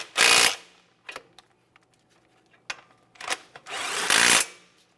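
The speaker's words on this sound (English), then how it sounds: "Align the mounting bolt ports and start in both of your mounting bolts." A power tool drives brake caliper mounting bolts on a 2014-2018 Mazda 3 during front wheel bearing and hub work. Two loud, close bursts of whirring bracket a few short clicks and knocks.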